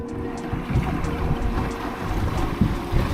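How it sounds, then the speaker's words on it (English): A small sailboat cuts across a bay in brisk wind on the Everglades Challenge race, with rushing water against the hull and strong wind buffeting the microphone in a steady, close roar. "This is a great day for sailing."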